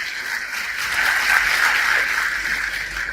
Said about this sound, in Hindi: पहले अपने लिए बहुत जोर से ताली बजाइए